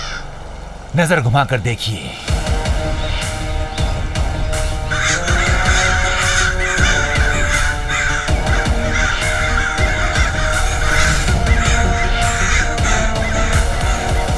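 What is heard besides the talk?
crows cawing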